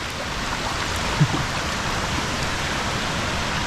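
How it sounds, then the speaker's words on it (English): A steady, loud rush of heavy rain and running water on a hiking trail in Arouca, Portugal, during a rainstorm, water streaming across the road, a constant broadband wash with a single small splash. "So this is how heavy the downpour of water's been today."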